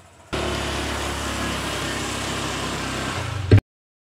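Small motorcycle engine starting up and running steadily at a moderate level, with a short burst near the end before it cuts off.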